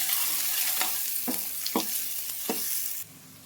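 Chili powder, spices and salt are stirred in hot oil in a pan, with a steady sizzle broken by several distinct scraping strokes of a spoon before the frying noise drops away at the end.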